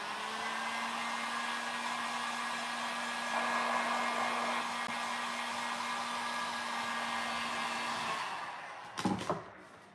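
Heat tool blowing hot air over glued WoodUbend moulding on a wooden crate, a continuous close whir that stops near the end, followed by a couple of brief knocks.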